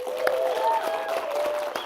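Brief applause and crowd noise at a web developer conference sits under tonal music or sustained tones, with scattered claps and murmur throughout.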